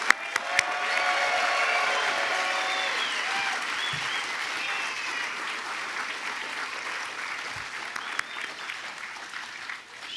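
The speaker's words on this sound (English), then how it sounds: "Let's give a round of applause to the hard hats." Audience applause for construction workers at a light rail ribbon-cutting ceremony, a broad, steady clapping from a sizable crowd that holds for several seconds and slowly tapers, with a few sharp knocks and faint voices mixed in.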